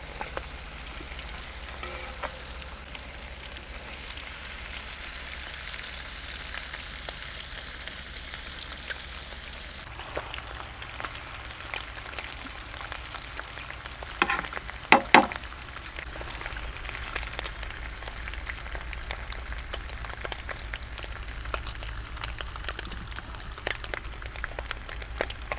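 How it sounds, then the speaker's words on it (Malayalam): Prawns frying in a pan for a Kerala-style prawn roast, a soft, rain-like crackle of oil that swells into a brighter, louder hiss partway through, with scattered pops and a couple of stirring knocks. "ഇപ്പോൾ ചെമ്മീൻ ഇങ്ങനെ ഫ്രൈ ആവണതിൻ്റെ കൂടെ കുറച്ച് കറിവേപ്പിലയും കൂടെ ഇട്ട് കഴിഞ്ഞാൽ"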